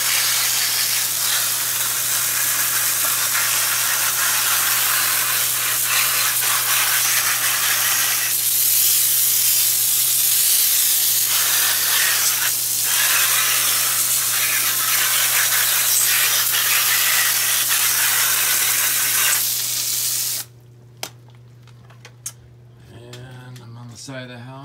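A hose sprays hard and steadily onto a gutter stick to wash off grime and leaves, a loud continuous hiss with a low hum beneath, stopping abruptly near the end, leaving faint clicks and handling noises.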